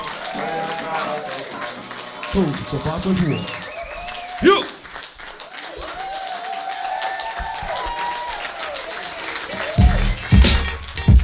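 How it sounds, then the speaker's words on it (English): A live audience applauds at a hip hop show in Melbourne with DJs, clapping and cheering rising in bursts between stretches of loud music and a DJ talking over the mic. "Big round of applause for the audience"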